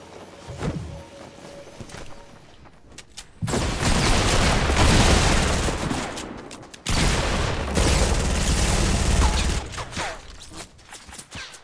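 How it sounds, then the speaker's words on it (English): Gunfire in a Fortnite Battle Royale match: two long loud bursts of rapid shots with heavy booms, separated by quieter stretches with scattered pops and footsteps. "Oh, we're getting shot at?"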